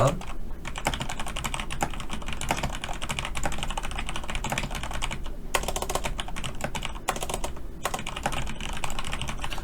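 Fast, continuous clatter of keys on a computer keyboard, close and steady, with brief pauses between runs of typing.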